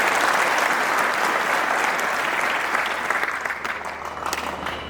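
Sustained applause from an audience at a public political gathering in Beed, Maharashtra, a dense clapping wash that stays loud and steady before thinning slightly toward the end.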